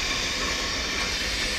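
Hunslet saddle tank steam locomotive 68067 in black livery runs on the Llangollen heritage railway, giving a steady, broadband rumble and hiss with no clear beat, fairly close and unbroken throughout.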